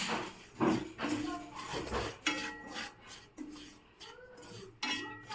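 Fine semolina (rava) is roasted and stirred in a pan over a medium flame, giving repeated close scraping and rasping strokes of a spoon against the pan in an uneven rhythm.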